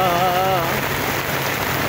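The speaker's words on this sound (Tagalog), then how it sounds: "Ayan na po, umulan na." Steady outdoor rainfall along Manila Bay in the Philippines, a dense continuous hiss of drops on surfaces, loud and close throughout with no talk.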